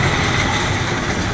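A Slime Streak roller coaster train rumbles loudly overhead inside an indoor mall amusement park, giving a steady roar of wheels on track that holds throughout.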